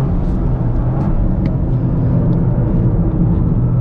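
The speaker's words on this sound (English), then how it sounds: "Pulls strong throughout the rev range, falls off a little bit in the higher RPMs." A Toyota GR Corolla engine pulling on a circuit, heard from inside as a loud, steady, dense rumble and drone that holds constant without clear shifts.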